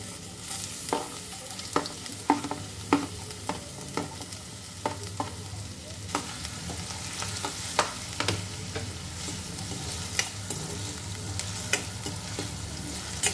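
Onion and cumin frying in a pan after mustard seeds, a steady close sizzle with a spatula stirring and scraping in regular knocks, no voices.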